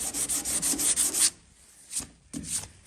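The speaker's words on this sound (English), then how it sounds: "you just basically go over with sandpaper, sand them down" Sandpaper rubs back and forth over the mould joint lines of a plastic scale model taxi, a rapid run of close scratchy strokes followed by a pause and two more short passes.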